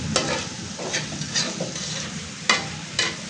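Pointed gourd (potol) and onion fry in a pan, a low steady sizzle broken by sharp scrapes and clinks of a spatula stirring, several of them spaced unevenly over the few seconds.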